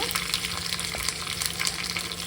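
Urad dal and curry leaves frying in oil crackle and hiss loudly up close, with busy spattering pops and stirring in a continuous dense texture, no speech.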